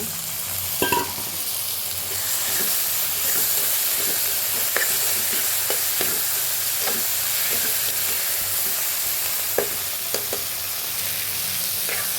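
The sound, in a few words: tomatoes and brinjal frying in a pan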